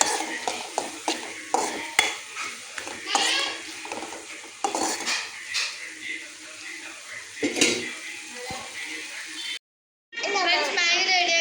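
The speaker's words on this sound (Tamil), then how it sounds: "இந்த சிக்கனை தூக்கி இதில் போட்டுட்டு ஒரு கிளறிட்டு" Chicken being stirred in a cooking pan with a metal utensil, scraping and clinking against the pan amid a light sizzle, while someone talks over it throughout.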